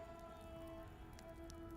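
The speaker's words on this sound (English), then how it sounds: "a soft rain began to fall outside, gentle, steady, washing the dust from the streets of Jerusalem" Soft, steady rain falls outside, heard as a faint continuous hiss with no breaks. Quiet sustained tones hum underneath.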